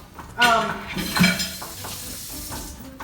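Ground beef being chopped up in a skillet for unstuffed peppers: a few clacks and scrapes of a utensil against the pan over a faint sizzle, with a muffled voice in the background.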